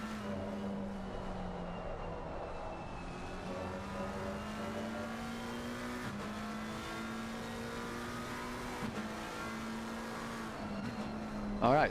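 A McLaren GT3 race car's engine drones steadily at Spa in a racing game, a sustained whine that rises and falls with gear changes across the lap, loud and continuous with commentary faintly under it.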